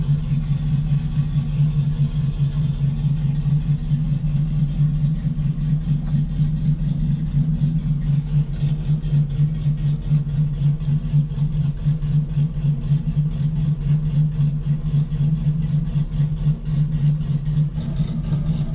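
A turbocharged Nissan Altima with a suspected wastegate fault idles steadily, a loud low engine hum with a faint rhythmic pulse running throughout, no voices.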